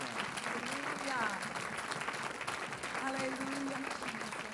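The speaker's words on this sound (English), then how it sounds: "Give him a hand clap." A church congregation claps for the Lord during an evangelist's revival service, producing sustained, dense hand clapping at moderate loudness, with voices calling and singing out underneath throughout.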